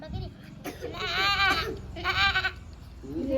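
A person imitates a goat, giving two drawn-out wavering bleats in a row, with a brief voice sound before and after.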